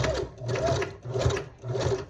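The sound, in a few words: sewing machine stitching doubled hair wefts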